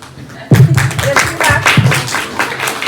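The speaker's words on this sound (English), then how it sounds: "A big round of applause to the quiz master." Audience applause at a school maths quiz competition for the quiz master, breaking out suddenly and continuing with loud, close clapping and a few voices over it.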